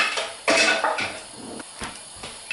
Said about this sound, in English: Let's get myself a spatula